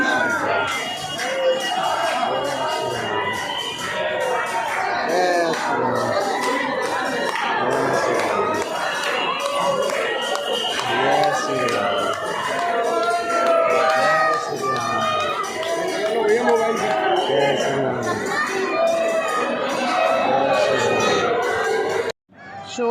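A large noisy crowd of devotees at a Hindu temple on a pilgrimage, a dense, continuous roar of many voices shouting and chanting, with children calling out and scattered claps, loud and close throughout.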